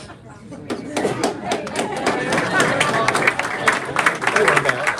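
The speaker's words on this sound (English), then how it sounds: "That's a pregnant applause." Applause and crowd noise rise from a conservative club audience at a Trump 2024 event, a dense patter of clapping that swells and stays steady, with scattered cheers.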